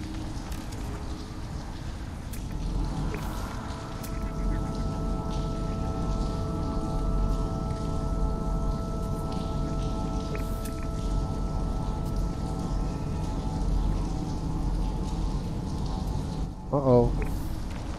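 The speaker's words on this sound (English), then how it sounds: "Look at this cave when it rains." Rain falls in a cave in the video game No Man's Sky, a steady hiss of drops over a constant droning hum, with a brief falling electronic tone near the end.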